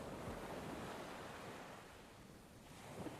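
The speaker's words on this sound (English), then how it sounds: "In the distance, the waves keep crashing" Ocean waves crash in the distance as a continuous wash of surf mixed with wind and microphone wind noise, with no voices.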